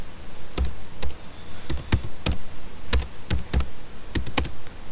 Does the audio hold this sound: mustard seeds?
no